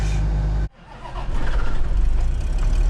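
A campervan engine cranking and catching: a loud low rumble cuts off abruptly, then the motor comes back up and settles into a steady running idle close by.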